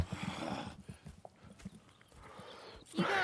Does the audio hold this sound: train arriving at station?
no